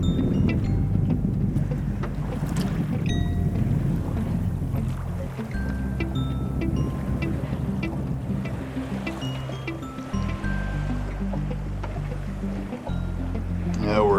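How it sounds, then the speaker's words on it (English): A sailboat runs slowly wing and wing downwind in light air, with a steady low rumble of wind and water around the hull. Faint creaks and tones surface now and then, and no one speaks. "we're just enjoying a very slow, leisurely sail"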